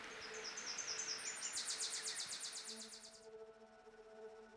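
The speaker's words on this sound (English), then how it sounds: "And red-breasted nuthatch in the background, and a red-eyed vireo." Red-breasted nuthatch and red-eyed vireo singing in Saskatchewan woodland, a rapid high trilling series of chirps stands out over softer, lower repeated notes, all fairly faint and distant.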